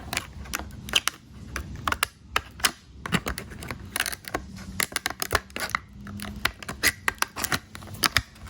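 Scissors cut through tough plastic packaging with a quick run of sharp snips and crisp clicks close by, irregular bursts of cutting separated by short pauses, with no talking.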